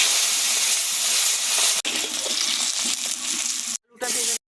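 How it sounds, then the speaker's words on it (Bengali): Pieces of bata fish fry in hot oil in a home kitchen, browning for a fish curry: a loud, steady, close sizzle and crackle, cut by brief pauses near the end. "সবগুলো লাল লাল করে ভেজে নেব"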